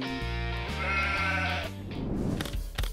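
A sheep gives one long, loud, quavering bleat that cuts off into a brief rustling noise.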